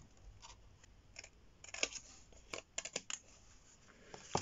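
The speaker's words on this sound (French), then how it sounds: "nous sommes prêtes à découper et à donner la forme de notre" Scissors snipping through paper to cut out a camera shape for a scrapbooking card, a string of quiet, close, irregular crisp snips clustered toward the middle and end.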